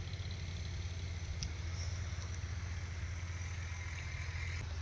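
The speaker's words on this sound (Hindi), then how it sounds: "बाकी ट्रैक्टर इधर चल रहे हैं" Tractors run in a village wheat field, giving a low, steady engine rumble that sounds faint and distant and continues without a break.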